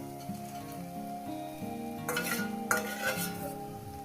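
Dried fish goes into a pan of frying masala, with a soft sizzle and a few spoon stirs and clinks building partway through, close and fairly quiet.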